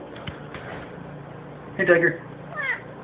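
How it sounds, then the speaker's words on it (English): A pet cat meowing indoors, with two short, close meows near the end, after a man greets it in a low voice. "This is my cat,"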